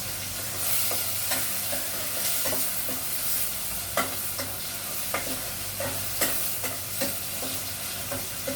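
Chopped tomatoes going into a pot of sizzling chicken wing tinola, with a continuous hot frying hiss broken by repeated sharp scrapes and clinks of a spoon stirring against the pot.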